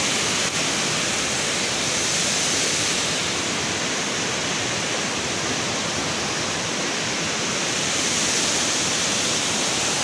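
Steady broadband rush of river water flowing beneath the Kali Keruh bridge during the rainy season, continuous and fairly loud with no voices.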